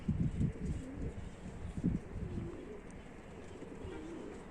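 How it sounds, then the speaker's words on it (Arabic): Newly bought pigeons on a rooftop coo in low, soft murmurs, with a few fuller bursts near the start, over steady outdoor background noise and faint rustling. "اخوان جبنا طيور جديدة"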